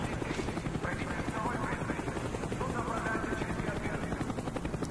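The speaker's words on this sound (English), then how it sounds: "Avoid the helicopter, Mason." A helicopter in the Call of Duty Black Ops campaign thunders steadily overhead with a dense, continuous rotor chop, loud throughout, while game voices talk over it.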